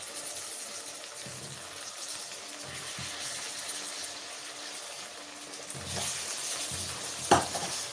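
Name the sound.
apples stirred and sizzling in butter caramel in pan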